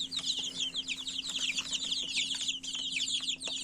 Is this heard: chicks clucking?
yes